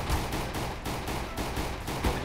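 Rapid automatic gunfire in Counter-Strike: Global Offensive, a fast string of evenly spaced shots rattling off in sustained bursts, close and loud with no pauses.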